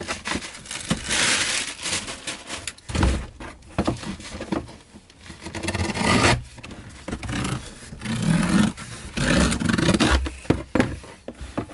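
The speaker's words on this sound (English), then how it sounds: "I'm scoring the cardboard so it basically bends easier" Cardboard being scored to fold a UPS shipping box gives close, loud scraping and crunching rasps in irregular bursts with brief pauses, alone without talk.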